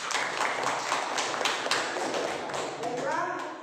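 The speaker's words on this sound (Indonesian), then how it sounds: "Kita beri aplaus semuanya." A school class applauding in an Indonesian classroom, a steady patter of hand claps from many pupils under light chatter, with a teacher's voice briefly coming through near the end.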